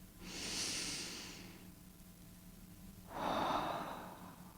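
Two slow, soft breaths, an airy inhale followed after a pause by a fuller exhale, heard close and alone in a quiet guided-meditation setting.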